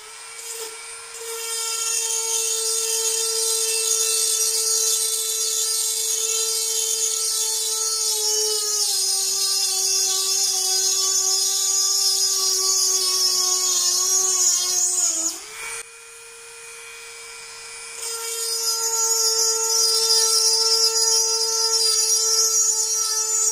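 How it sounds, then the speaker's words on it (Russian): A small rotary drill bores holes in stone with a high, steady whine that dips in pitch under load, stops briefly near the end, then resumes, close and fairly loud, no speech. "Вообще это такое дело, ну, пыльное и грязное сверление."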